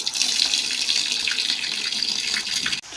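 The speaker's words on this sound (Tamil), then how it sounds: "பார்த்தீங்கன்னா தண்ணி பிடிக்குது பாப்பா" Tap water gushes steadily into a bucket being filled for washing clothes, close and continuous, with a brief break just before the end.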